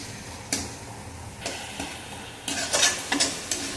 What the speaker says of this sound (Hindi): ये हमारा मसाला भून के तैयार हो गया है बढ़िया से।